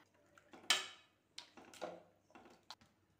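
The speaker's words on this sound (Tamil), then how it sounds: "இதை மசிச்சு விட்டுறலாம்." Cooked brinjal, potato and onion being mashed in a pot, heard as a few soft, separate squishy presses and metal-on-pot clinks, close and quiet with pauses between strokes.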